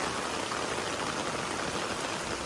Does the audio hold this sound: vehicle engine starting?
no